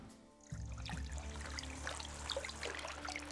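Water pours and trickles into a gold pan in the video game Gold Mining Simulator 2, starting suddenly and running as a steady, faint stream with light splashing over a low hum.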